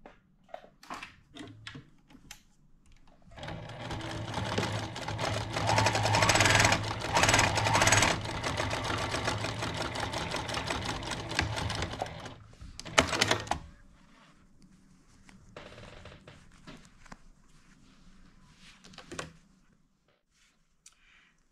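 A sewing machine stitches a quarter-inch seam on a patchwork Christmas stocking, running in a steady rapid whir for about ten seconds before stopping, followed by quieter fabric handling and clicks.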